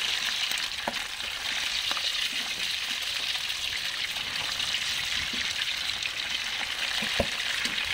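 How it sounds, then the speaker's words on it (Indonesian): Chicken pieces frying in very hot oil for crispy Indonesian ayam kremes give a dense, steady sizzle and hiss, fairly quiet and unbroken, with a few sharper pops now and then. "tinggal kita goreng di minyak yang benar-benar panas ya"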